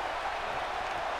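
Crowd noise roars through a WWE 2K18 wrestling arena, a dense, steady wash of cheering and applause held at an even level for a brief moment without any clear voice on top.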